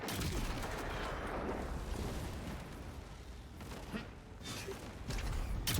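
A sustained volley of gunfire rages in the video game Avowed, dense overlapping shots rolling on for several seconds, loud and close, with no talk over it.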